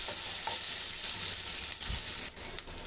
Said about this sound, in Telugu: ఆనియన్ బాగా ఫ్రై చేసుకోవాలండి.